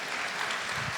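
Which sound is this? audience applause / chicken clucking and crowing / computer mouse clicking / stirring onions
audience applause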